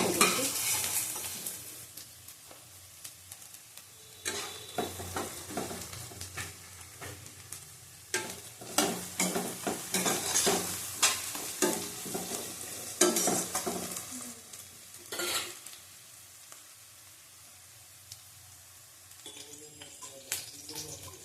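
Onions frying in a pan for a spicy katla fish curry, a steady sizzle broken by repeated bursts of stirring and scraping, close and fairly loud with no talking.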